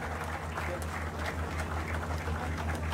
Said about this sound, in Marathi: टाळ्यांचा गजर जाऊ द्या।